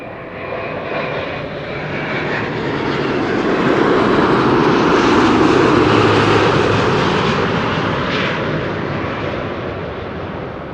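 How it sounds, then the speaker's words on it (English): A Delta Airbus A330neo arriving at Amsterdam Schiphol gives a loud jet roar that swells to a peak near the middle and then eases off, broad and rumbling, with no voices. "we are going to see the Team USA Delta A330neo arriving from Minneapolis"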